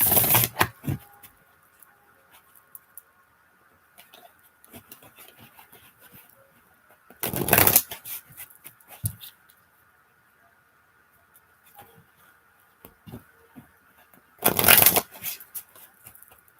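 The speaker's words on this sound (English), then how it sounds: "So I'm going to start pulling some cards" A deck of cards shuffled in three short bursts of fast riffling, close and crisp, separated by long quiet gaps with faint ticks and handling noises.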